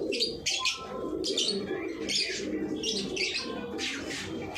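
Pigeons coo and flutter close by, soft throaty calls mixed with chirps and repeated rustling, steady throughout with no talking.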